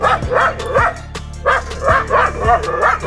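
A Rajapalayam dog barks close by in a quick run of sharp barks and yips at a steady, rhythmic pace.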